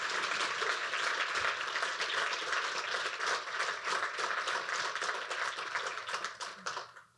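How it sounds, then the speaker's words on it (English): Audience applause at a university welcome address for a women in leadership case competition, a sustained round of many hands clapping, fairly distant and soft, tapering off at the close. "So let's have a round of applause for that."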